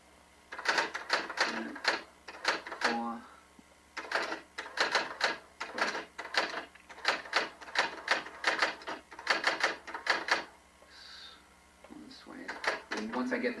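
Typing out a poem, one finger at a time, makes rapid, close clacking keystrokes in irregular bursts with short pauses between runs.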